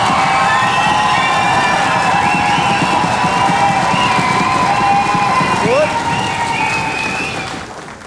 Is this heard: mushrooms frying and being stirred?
no